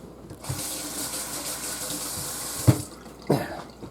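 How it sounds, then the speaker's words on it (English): Water runs steadily from a kitchen tap as hands are washed beneath it, a continuous close rush broken by a few splashes and thumps near the end, with no one talking. "Always wash your hands multiple times."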